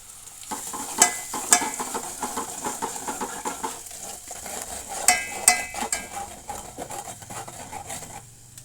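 Onions hiss and sizzle in a hot pan with spices while a spoon stirs and scrapes against the metal in repeated strokes, a few sharp clinks standing out, with no talk.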